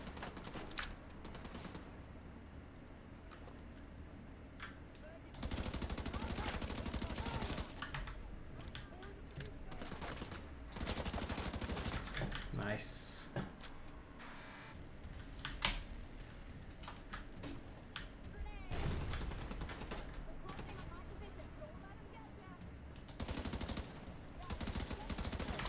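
Gunfire in the video game Tom Clancy's The Division 2, with bursts of automatic shots and scattered single cracks spread through the clip, mixed with other game noise under a speaking voice.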